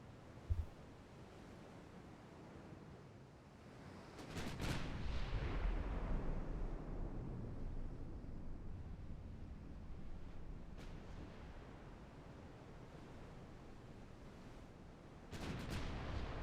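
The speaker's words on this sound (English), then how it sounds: "Ready the cannons!" Battleship cannons fire in the naval warfare game Ultimate Admiral Dreadnoughts, a heavy booming salvo that rolls out into a long rumbling decay beneath steady wind and sea noise, with a second blast arriving near the end.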